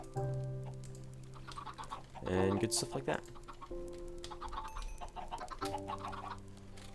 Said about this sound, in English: I am trying to get, believe it or not, chickens, so I can have eggs